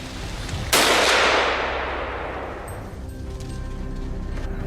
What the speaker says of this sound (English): A sharp gunshot rang out.